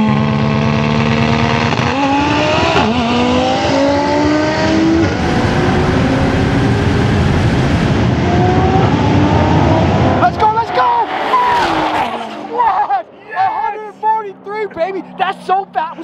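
Nissan GTR drag racing a Tesla Plaid: a loud, sustained engine roar with rising revs and road noise, then fading into excited voices and shouts near the end.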